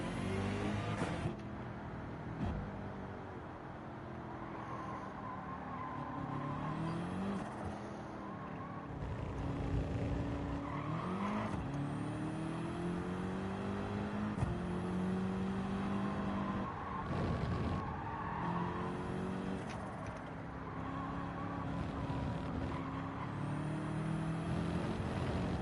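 Race car engine from Gran Turismo 7 at Maggiore, Italy, droning steadily for the whole stretch with repeated revving sweeps and gear changes as the tyres are warmed up, loud and continuous with no talking.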